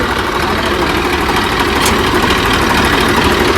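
A Swaraj 735 tractor engine idling close by, a constant low rumble and mechanical hum with no pauses and no voices.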